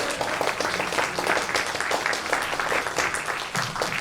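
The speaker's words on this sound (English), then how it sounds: "Another round of applause" Audience applauding at a spring jazz concert by a college jazz band, a dense, steady wash of many hands clapping close by throughout, with no voices over it.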